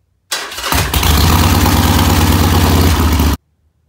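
Motorcycle engine fitted with a Hammer Performance 1250 kit, running steadily during a heat cycle after the install; it fires up loud and close, then holds a strong, even rumble for about three seconds before cutting off abruptly.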